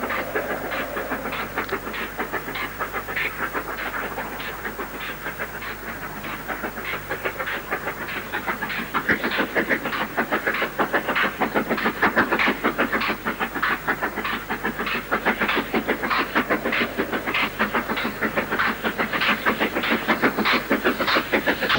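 A Britannia class steam locomotive hauls a freight train near Shap Wells, banked by a class 4, with loud continuous rhythmic exhaust beats over rail rumble and hiss, no voices.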